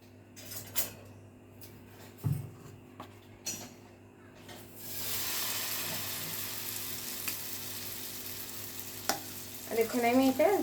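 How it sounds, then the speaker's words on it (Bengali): Aloo paratha laid in a lightly oiled pan over a low gas flame: a few knocks and handling sounds, then a steady, even sizzle that holds, with a brief voice near the end. "আমি গরম গরম ভাজবো"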